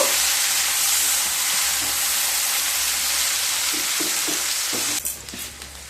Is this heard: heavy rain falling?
no